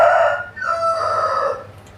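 Loud, close cock-a-doodle-doo from a rooster, one full crow followed by a second drawn-out call that trails off, heard alone without voices.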